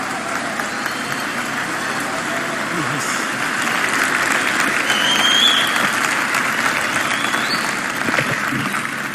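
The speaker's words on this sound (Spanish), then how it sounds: "Recibamos con un fuerte y caluroso aplauso a nuestro conferencista magno de esta tarde" Lecture audience at an engineering conference on drilling giving a speaker warm applause, a sustained broad clapping roar at moderate level that swells slightly midway, with some murmured voices.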